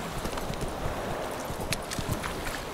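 Horse hooves clip-clopping in The Witcher 3, a quick uneven run of hoof strikes at moderate level over a noisy game ambience, with no voices.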